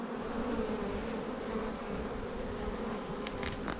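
Honey bees swarm around an open hive while frames are worked during a sunflower honey harvest, a steady dense buzzing drone close by with no talk over it.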